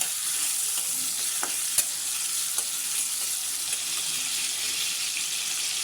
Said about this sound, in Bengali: 2টা চিংড়ি দিলাম একটু ব্রাউন হওয়ার জন্য